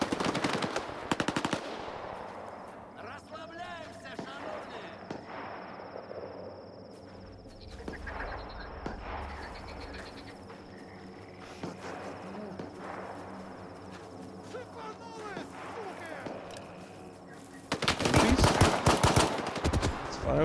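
Machine-gun bursts and single shots in the video game Stalker 2, played on Xbox Series X, with sparse firing through the middle and a loud, dense volley at the end.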